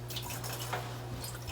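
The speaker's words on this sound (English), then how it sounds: "I fill up the honey right here, just right here with cold water to rinse out the excess" Cold water runs into a honey container to rinse out leftover honey for mead making, a steady close trickle and splash with faint dripping, continuous over a low background hum.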